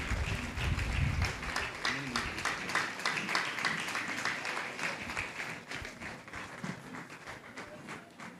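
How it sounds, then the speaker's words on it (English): A crowd at a state government's grand presidential dinner claps for the Osun State governor's representative, moderately loud and steady, with a voice briefly heard near the start. "Please, a big round of applause."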